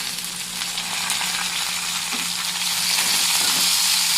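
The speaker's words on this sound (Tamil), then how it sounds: "வெங்காயம் லைட்டாக வதங்கணும்." Onions and curry leaves frying in a pan for carrot puttu, a steady close sizzle with a soft crackle that grows slightly louder near the end, no voices.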